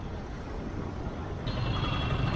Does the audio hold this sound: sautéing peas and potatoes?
no